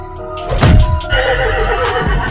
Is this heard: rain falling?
no